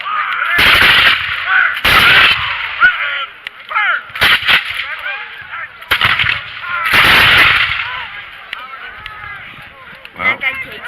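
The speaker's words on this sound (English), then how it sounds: "those volleys are coming fast and furious" Musket volleys at a Battle of Fort George re-enactment crack out in several loud, broad blasts a second or two apart, with crowd chatter and bird-like honks continuing between them.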